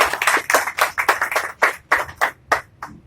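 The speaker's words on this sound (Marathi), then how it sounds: "एकदा जोरदार टाळ्या वाजवा" A seminar audience claps together in a short burst of applause, with distinct, fairly loud rhythmic claps lasting about three seconds and no speech over them.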